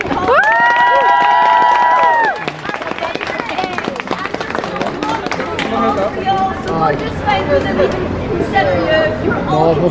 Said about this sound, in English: I still want everybody to give a massive round of applause for everybody else who came in here.